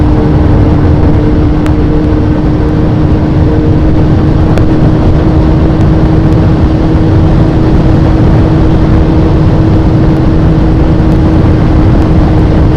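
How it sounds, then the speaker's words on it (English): A motorcycle engine runs loud and close with a steady, droning roar that barely changes pitch; the bike is misbehaving and tends to stumble when the throttle is closed and reopened. "if I come off this throttle and then try to come back on her again, she blows up"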